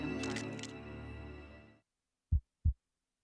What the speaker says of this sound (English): Is that a heartbeat just now?